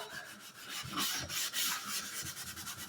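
A cloth soaked in painter solvent is rubbed over stained wood to lighten dark areas, making a close, raspy back-and-forth scrubbing in quick strokes.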